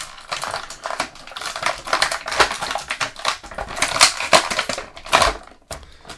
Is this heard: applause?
no